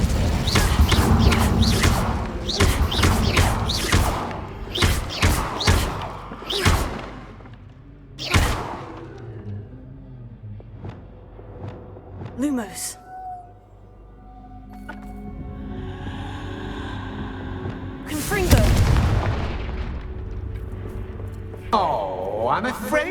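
Incendio fire spell cast in Hogwarts Legacy, a series of sharp whooshing bursts and thuds from combat, with loud impacts, sparse gaps of quieter ambience and a late burst of flame-like roar.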